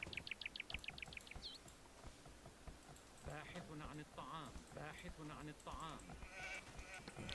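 Sheep bleat in a quick series of short wavering calls in Age of Empires while a villager eats them, followed by steady talking over game sounds.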